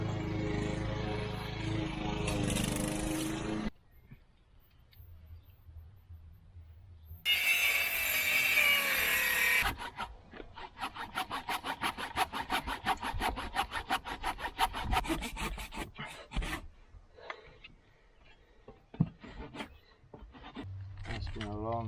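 A hand saw cuts notches in wood for a self-built cabin, with rhythmic rasping strokes in steady runs, near and clear, after a stretch of talk at the start.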